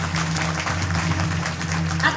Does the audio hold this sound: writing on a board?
no